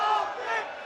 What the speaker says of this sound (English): A good selection of fans cheering on their charges